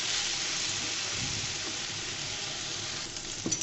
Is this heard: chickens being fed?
no